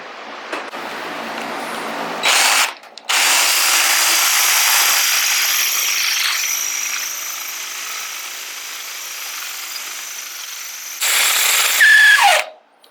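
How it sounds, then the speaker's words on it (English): A power drill whines steadily for several seconds, starting and stopping in short bursts, with a harsh grinding edge as it bites into metal on a Honda Shadow motorcycle. "You're gonna drill the first layer out"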